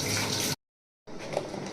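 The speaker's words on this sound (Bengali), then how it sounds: "আমি জাস্ট ধুয়ে রেখে দিচ্ছি" Tap water runs steadily as food is washed, a close hissing stream that cuts out for about half a second and then starts again.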